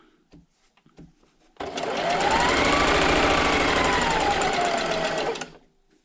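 A sewing machine stitching strips for a scrappy strip quilt, starting abruptly and running in one steady fast whirring burst for about four seconds before stopping, with a few faint handling clicks before it.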